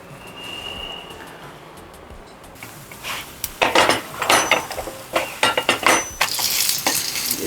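Thalipeeth roasting in ghee on a pan over lowered heat, a soft sizzle followed by clattering metal knocks as a lid is set on the pan, then loud irregular scraping and clinks.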